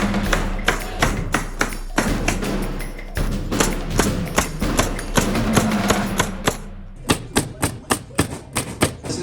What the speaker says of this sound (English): Let's get those nail guns out